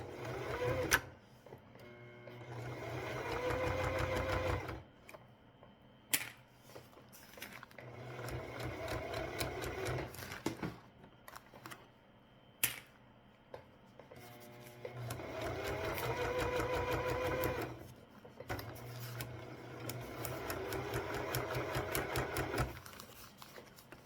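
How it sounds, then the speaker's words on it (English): A sewing machine stitching a baby changing pad runs in several bursts of rapid, steady whirring, stitching forward and then backward, with short pauses and clicks between the runs. "I'm going to stitch a couple forward and a couple backwards."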